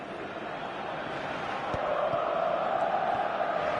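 Stadium crowd in a football video game, a steady broad roar of spectators that swells slightly louder partway through, with no distinct chants.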